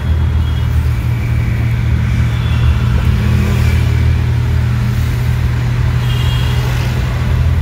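A Mahindra Scorpio drives at low speed during a driving lesson in West Bengal, with a steady, close engine drone and road rumble throughout and no noticeable rise or fall.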